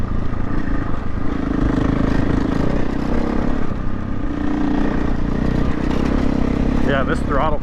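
A KTM off-road motorcycle, a 500 EXC-F or 890 Adventure R, revs steadily under throttle for several seconds, its engine droning loud and close through wind and rattling ground noise, with a voice briefly heard near the end.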